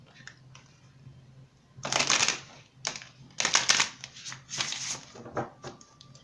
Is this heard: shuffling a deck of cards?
yes